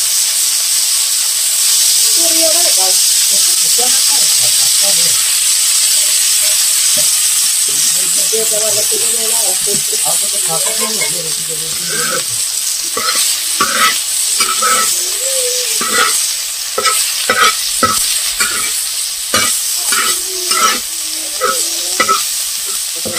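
Oil goes into a hot pan and chilies fry in it, starting as a steady loud hiss that turns into dense, rapid crackling and spitting near the microphone.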